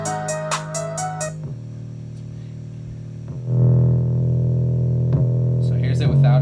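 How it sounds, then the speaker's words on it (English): An 808 bass run through a red distortion plugin in Studio One, playing deep sustained booming notes with a gritty driven edge, alongside a short hi-hat pattern and with talking over parts of the beat. "Distortion will make the 808 hit so much harder than it did before."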